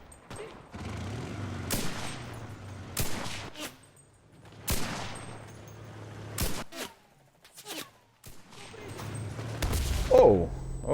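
A bolt-action rifle in the Enlisted battlefield game fires several loud, widely spaced cracks, with a quieter gap between each shot for cycling the bolt and some faint background battle noise in between.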